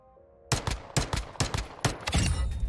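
XR9 rifle fire in Modern Warfare 2: loud, close gunshots in quick repeated bursts of several shots each, with brief pauses between them and no talking.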